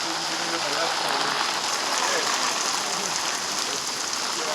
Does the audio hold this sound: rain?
yes